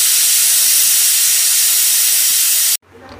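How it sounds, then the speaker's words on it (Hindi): A pressure cooker boiling chicken lets out a loud, sustained steam hiss for nearly three seconds, then cuts off abruptly to a quiet background. "लिड को कवर कर देंगे, दो तीन सीटी आएंगी उसके बाद निकाल लेंगे"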